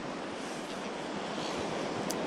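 Steady, loud wind buffeting the shore at Lyall Bay beach in Wellington, New Zealand, a continuous broadband roar mixed with surf wash and no voices.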